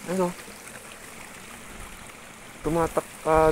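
Water from a mountain stream trickles steadily past a primary school area in Kalinga, a faint continuous wash with bursts of speech at the start and near the end.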